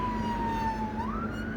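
A hearse's siren signalling that it carries a body sounds as one long steady wail that slides down slightly, then rises into a higher held tone over a low road hum.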